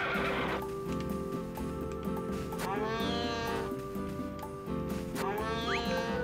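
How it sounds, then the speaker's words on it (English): Horse neighing in the video game Harvest Moon: A Wonderful Life, with two rising and falling whinnies heard close and clear over steady in-game background music. "Good horsey."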